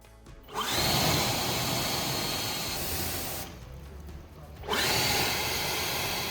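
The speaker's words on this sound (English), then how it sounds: "Now you can easily come through with a leaf blower." Leaf blower drying a freshly washed car, a loud steady rushing roar that starts, cuts back briefly to a lower hum, then surges again to full blast.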